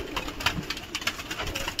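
Madrasi pigeons cooing, a soft, quiet series of short repeated coos in an uneven rhythm at close range, with light background noise and no talking.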